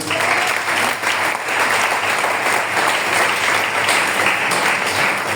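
Church congregation applauding together, loud and sustained clapping that fills the space steadily from start to finish, with no talk over it.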